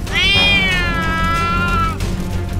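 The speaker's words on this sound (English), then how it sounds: "My cat!" A cat meows in the Roblox game Brookhaven RP, one long drawn-out wavering cry that rises and then slides slowly down, loud and close over a steady game background hum.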